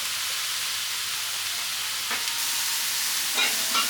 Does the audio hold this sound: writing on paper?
no